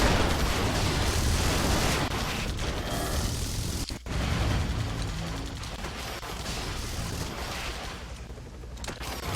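Artillery firing in the real-time strategy game Airmech: a dense, steady wash of booms and blasts rumbling loudly throughout, with one brief dip near the middle and little else standing out.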